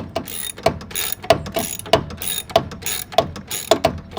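Short stubby ratchet clicking on the belt tensioner of a 2011 Hyundai Sonata/Elantra 1.8 liter, a series of crisp, close metallic ratchet clicks in an uneven rhythm of about seven strokes.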